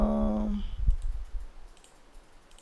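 A single soft mouse click while choosing a color with an eyedropper tool in Photoshop, faint and quick, following a short hummed tone, with a quiet room background.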